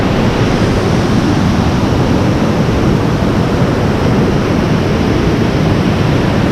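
A powerful waterfall in the Yorkshire Dales roars loudly and continuously, a dense unbroken wash of crashing water with no other sounds.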